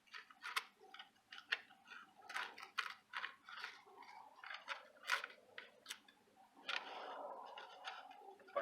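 Scissors snipping through thin plastic while making a recyclable respirator: a quiet, uneven run of crisp clicks and short cuts, close by, ending in a slightly longer rustling stretch.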